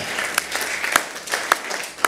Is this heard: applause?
yes